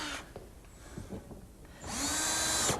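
A power drill drives screws into flat-pack furniture, a short loud whirring burst near the end after quieter handling noises.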